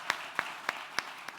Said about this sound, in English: Please give her a round of applause as well.